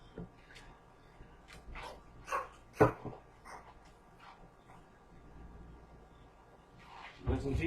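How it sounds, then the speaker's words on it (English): A dog barks a few times in short, separated bursts, fairly faint against a quiet background, with a louder rustle at the end. "listen to your dog bark for a while."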